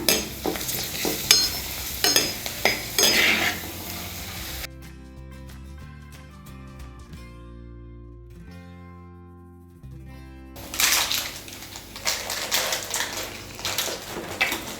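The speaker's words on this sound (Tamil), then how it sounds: "இப்போ வந்து அப்பளம் எல்லாத்தையும் வந்து நம்ம பொரிச்சிட்டோம்" Crackling sizzle of papad frying in hot oil, bursts of bubbling with a quieter pause in the middle before the frying picks up again.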